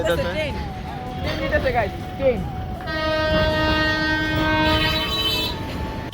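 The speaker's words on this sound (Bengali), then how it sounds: "ট্রেন" A train horn blows steadily for several seconds, loud and close, after a stretch of rumbling rail noise with people talking.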